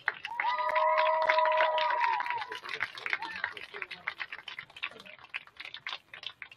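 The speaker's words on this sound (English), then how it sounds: "let's give our senior women one more round of applause." Round of applause for senior women soccer players at a high school match, scattered hand claps and cheers starting near the announcer's voice, then thinning into light, uneven clapping across the stands.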